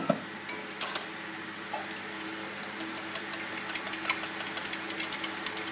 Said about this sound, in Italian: Rompiamo il tuorlo con un pochino di latte di mandorla.